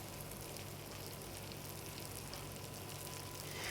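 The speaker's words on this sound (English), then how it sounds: "you want to hear those apples sizzle a little bit, and that's the juice mixing with the caramel" Apple pieces sizzling in caramel in a pan for an apple tarte tatin, a steady, soft, continuous bubbling hiss with no voices.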